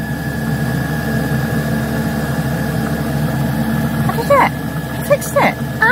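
A diesel heater running after a cracked filter was fixed, a steady low rumbling drone blowing hot air, with a few brief voice sounds near the end.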